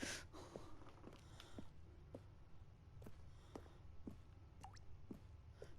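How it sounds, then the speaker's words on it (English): Water dripping in The Stanley Parable Ultra Deluxe game: a steady run of faint, irregular single drips, roughly one or two per second, heard alone over a low background hum. "I hear dripping."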